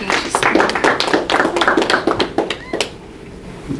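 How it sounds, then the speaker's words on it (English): Audience clapping in a religious gathering hall: a dense burst of applause that thins into scattered claps and fades out. "Give me a round of applause."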